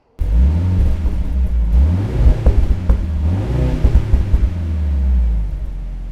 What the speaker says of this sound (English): take a listen to how the new C63 sounds.